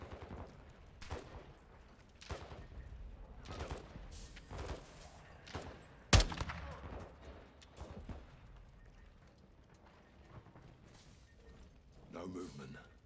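Gunfire in the video game Call of Duty Modern Warfare 2, with scattered rifle shots and bursts across the clip, one sharp loud crack near the middle, mixed with game sounds and low talk.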